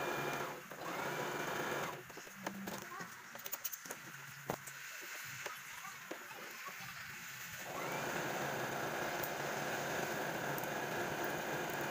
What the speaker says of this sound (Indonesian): Jahit mengikuti garis yang telah kita buat tadi.